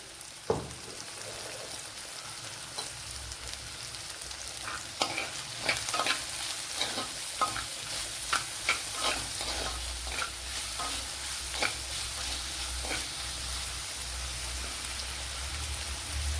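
Onions sautéing in a pan with salt while being stirred for a fish curry: a continuous soft sizzle runs throughout, punctuated by repeated spatula scrapes and taps at an uneven rhythm.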